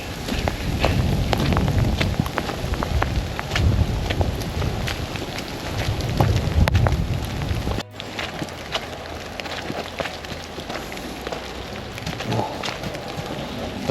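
Rain patters steadily with gusts of wind on a woodland path in Derbyshire, a constant close hiss with scattered drops, easing slightly after a brief break.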